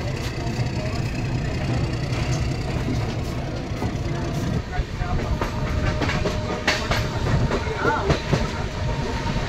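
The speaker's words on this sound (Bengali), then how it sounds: "হাওড়া নিউ দিল্লি পূর্বা এক্সপ্রেস এখন ঢুকছে।" The Howrah–New Delhi Poorva Express enters a station, heard from the platform: a steady, moderately loud rolling rumble with rhythmic wheel clatter and occasional knocks, with faint voices in the background.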